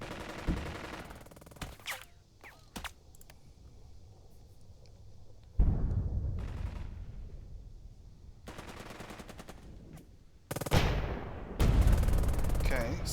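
Gunfire in the war strategy game Burden of Command: scattered single shots, then long bursts of loud rattling automatic fire and heavy booming volleys in separate blasts, with a voice commenting between them.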